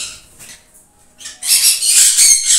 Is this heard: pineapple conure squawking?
yes